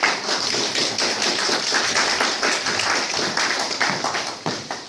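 Sustained, even clapping from a grateful audience at the opening of an art exhibition of works by the Saienko artists, with a steady patter of many hands throughout.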